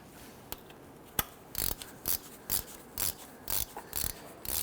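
A ratchet wrench runs down the bolts on a 2006-2010 Hummer H3 neutral safety switch, quick bursts of clicking repeated about every half second, close and clear.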